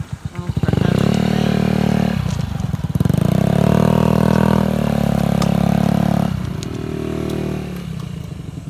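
A 2006 Honda Ruckus 50cc scooter engine putters and revs in close, loud bursts with rising and falling pitch, then eases back as it pulls away.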